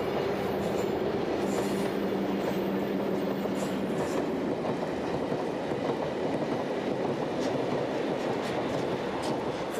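Belgian Railways B Cargo freight train passing close by, a continuous loud rumble of wagons rolling over the rails with a brief squeal near the start.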